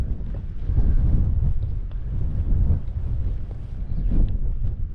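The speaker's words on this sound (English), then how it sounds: "Gets a proper beating from the wind, this place." Strong wind buffets an exposed island, roaring and gusting into the microphone in low rumbling surges that swell and ease throughout, with no voices.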